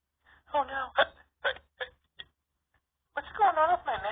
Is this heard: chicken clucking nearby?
no